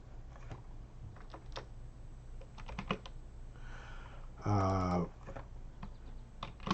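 Someone types on a computer keyboard in a quiet room, with scattered short bursts of key clicks, some fast runs and some single taps, over a low hum, plus a brief louder tone partway through.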